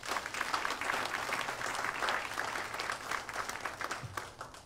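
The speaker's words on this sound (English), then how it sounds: "Please give them a round of applause." Soldiers and guests at a 264th Medical Battalion change-of-command ceremony give sustained, moderately distant applause, an even patter of many hands that continues for several seconds before easing off slightly at the end.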